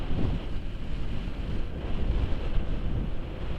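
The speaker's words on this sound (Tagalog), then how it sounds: "Ang lamig ng hangin oh." Wind blowing across a mountain view deck at Timbak in Atok, Benguet: a steady, close rumbling roar that buffets the microphone without a break, with no voices.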